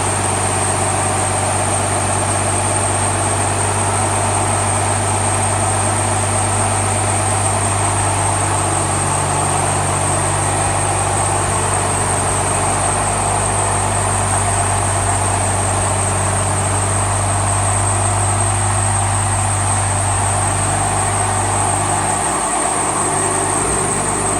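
A first-generation Cummins diesel engine idles in a crew cab truck, a steady, loud low rumble with a constant whine running unchanged throughout.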